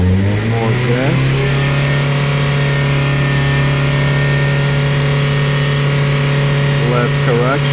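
Car engine with rusEfi electronic fuel control, in closed-loop fueling, revs steadily with a sustained harmonic drone, rising slightly near the start and again near the end, loud and continuous throughout.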